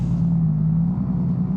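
A truck engine idles with a steady, low, even rumble close by, holding a constant tone for the whole moment with no voices over it.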